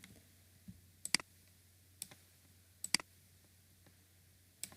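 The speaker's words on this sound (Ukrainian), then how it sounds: "затискаємо ліву клавішу клавішу миші і малюємо" Computer mouse clicks while drawing a line in a graphics program: a few sharp, close, quiet clicks spaced about a second apart over a low steady hum, with no talk.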